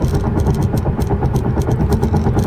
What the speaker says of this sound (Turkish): motor sesi özellikle dur kalk trafiklerde fazla giriyor bu arabada